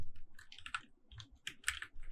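Quick bursts of keystrokes on a computer keyboard as HTML is typed for a Laravel page, close and crisp, with irregular clusters of clicks and short pauses between them.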